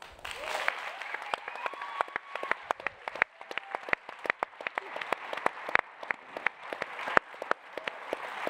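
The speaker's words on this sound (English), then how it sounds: "A round of applause for everybody." An audience at an Explorers Festival 2018 panel on technology and exploration applauds steadily, with dense, sharp claps rattling on throughout at moderate distance.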